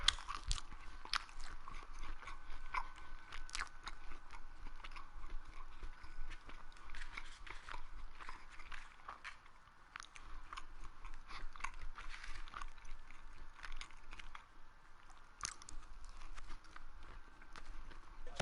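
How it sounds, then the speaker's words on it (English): Close, intimate munching and chewing of food right by the microphone, a continuous crunchy, wet chomping with irregular bites over a faint background of a football video game playing quietly. "Excuse me if I'm munching in your ear."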